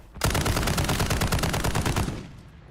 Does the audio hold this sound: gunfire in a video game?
yes